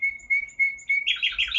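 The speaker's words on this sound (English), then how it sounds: "the birds are coming in the back door." Small birds chirp and tweet near a back door, a thin whistled note repeating at a steady pulse before a louder, busier burst of overlapping calls close by.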